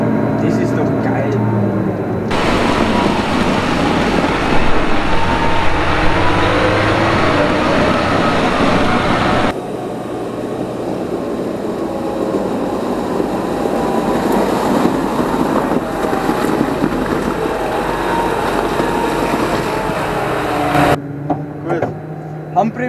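A Claas Xerion 4000 Trac VC tractor drives along a public road, its steady low engine drone and rumbling running noise filling the whole stretch, heard from on board, with a break in tone partway and people talking over it.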